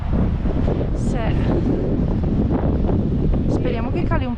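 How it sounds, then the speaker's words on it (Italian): Strong, constant wind roars and buffets the microphone during a sandstorm, with voices talking briefly through the gusts. "Speriamo che cali un po' sto vento perché"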